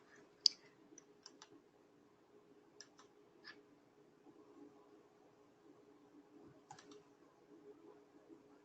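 Sparse computer keyboard clicks come in a few quick clusters of keystrokes separated by pauses, faint and close against a quiet room hum, with no one talking.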